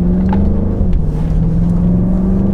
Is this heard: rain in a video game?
no